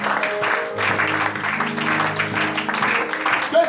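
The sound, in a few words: congregation applauding the Lord in church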